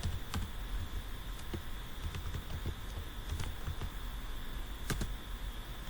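Scattered light key clicks from someone typing C code with scanf on a computer keyboard, faint and irregular over a steady background hum, with no talking.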